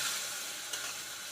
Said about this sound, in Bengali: একটু সটে করে নেবো